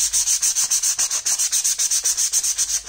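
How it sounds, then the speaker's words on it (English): Plastic armor chest plate being scuffed with abrasive for paint texture, a fast, even back-and-forth rasp of about twenty strokes, close and loud with no talking. "making sure that your scuff, like I mentioned earlier, is where you're scuffing the actual plate"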